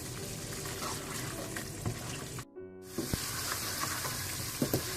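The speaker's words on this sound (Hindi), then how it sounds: "पिसी हुई अदरक डालकर आप अच्छी तरह से इसकी भुनाई कर लें।" Meat browning with ground ginger in a pot, a steady close sizzle and crackle of frying with a brief break and light stirring clatter partway through.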